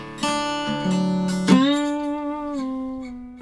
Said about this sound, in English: This slide I use in the first part is a Weissenborn.